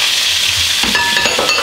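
Tomatoes hit a hot frying pan for fried rice, and a loud steady sizzle turns into sharper crackling and spitting, with a few light clinks of a utensil.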